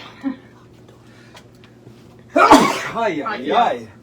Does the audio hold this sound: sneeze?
yes